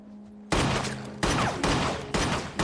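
Several pistol shots ring out during shooting practice, loud sharp bursts in quick succession, each followed by a short decaying tail, with a low steady hum before the first shot.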